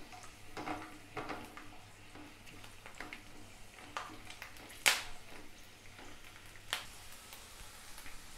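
Two peeled medium-sized small onions frying in a pan for onion chutney, a faint sizzle with scattered light clicks and clinks of utensils, including one sharper tap partway through, with no voices.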